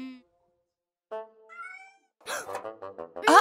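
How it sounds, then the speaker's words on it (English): A cartoon kitten meows in short, high, tonal cries, a brief squeak first, then two or three rising mews, followed by louder busier cartoon sounds near the end. "Where's that kitten gotten to?"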